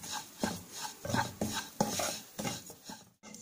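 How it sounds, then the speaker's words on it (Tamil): Semolina (rava) roasting in ghee in a pan, stirred with a spoon: close, rhythmic scraping strokes about twice a second with a light sizzle underneath, steady and alone until a brief pause near the end. "வாசனை வர வரைக்கும் வறுக்கணும்"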